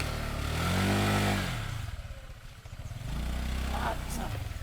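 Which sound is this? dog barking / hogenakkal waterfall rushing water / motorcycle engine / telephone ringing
motorcycle engine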